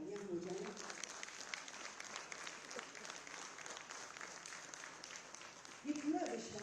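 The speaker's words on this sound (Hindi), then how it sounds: "जोरदार तालियां हो जाए" Audience applause fills the hall at a public dialogue event attended by Uttar Pradesh's chief minister, a steady dense clapping that carries through with a brief swell of voices near the start and end.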